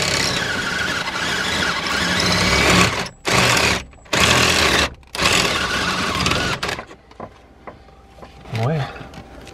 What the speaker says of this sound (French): C'est la visseuse.